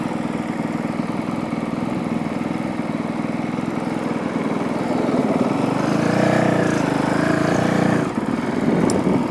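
A passing vehicle engine drones steadily beside a Honda CRF450L dual-sport motorcycle stopped at a road crossing, growing louder and rumbling closer near the end before easing off.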